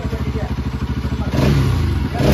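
A modified Bajaj Pulsar NS200 motorcycle engine idles close by with a rapid, lumpy pulsing beat, then rises into a louder, steadier revving roar toward the end.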